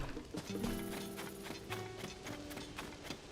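Horse hooves clip-clop in a steady rhythm within Tears of the Kingdom, moderately close, with tonal game music layered over the footfalls.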